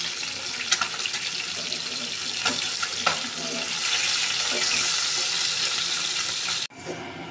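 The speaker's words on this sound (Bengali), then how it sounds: "সাথে মাছ ভাজা করছি" Fish frying in a pan in a home kitchen gives a steady, hissing sizzle throughout, with a few sharp clinks and scrapes. It ends in a brief cut.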